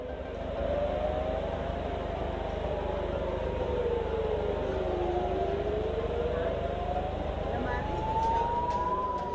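Air raid sirens wail over northern Israel in a steady rising and falling tone that sounds distant and continuous, with several sirens overlapping faintly against a constant low background rumble.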